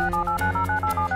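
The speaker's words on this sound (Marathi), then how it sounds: "विराजचा फोन आहे।" Electronic telephone ringing in a Marathi TV serial scene, a short burst of fast, warbling tones repeating in quick pulses over a low background hum.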